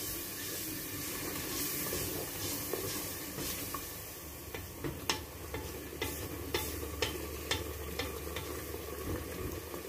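Ground onion masala fries in a pan with a steady dense sizzle while a spoon stirs it, adding a string of light scraping taps against the metal.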